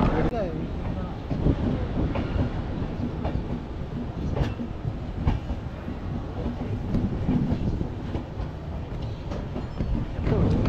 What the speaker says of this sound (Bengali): এই অবশেষে ছাড়লো আমাদের ট্রেন, 21 মিনিট লেট করে দিয়েছে কিন্তু